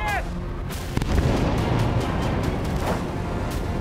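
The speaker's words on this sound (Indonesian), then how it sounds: "Ledakan akibat serangan udara militer Israel kembali terjadi di kota Gaza pada Sabtu pagi" Israeli military airstrikes on Gaza City: dense, rumbling low-frequency noise with a few sharp bursts and booms, like distant explosions rolling over a steady roar.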